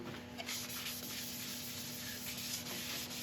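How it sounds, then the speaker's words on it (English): Blonde shellac being brushed or wiped onto a figured maple bowl on the lathe, giving a steady soft rubbing hiss that runs continuously at close range, with a faint constant hum underneath and no talking. "so I'm just going to go on with a blonde shellac"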